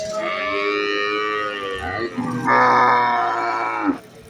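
Cattle at the Valliyoor cattle market in Tirunelveli, a milking Jersey cow, give a long, loud, close moo that rises in pitch and holds, then cuts off.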